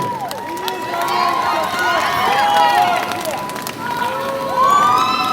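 A large concert crowd in Ufa at a show cheers and whistles with many overlapping high shouts, a loud, continuous swell of voices all through.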